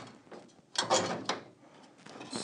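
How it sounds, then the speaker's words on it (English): Welding clamps snap and ratchet onto a VW Beetle heater channel part, a few close metallic clicks and clunks in a short burst, moderately quiet with no talking. "what we're going to do to clamp this down is just use some of these welding clamps here"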